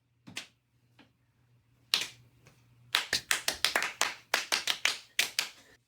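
Hands clapping in a rhythmic cheer-style pattern, starting with a few scattered claps, then quick bursts of sharp, close claps in a repeating syncopated beat.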